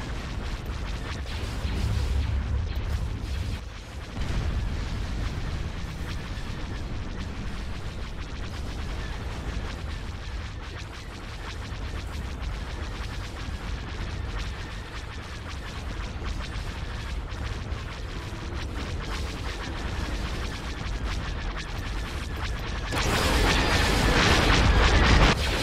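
Artillery barrage in the video game Empire at War, a dense, continuous roar of booming explosions and rumbling fire, swelling louder near the end.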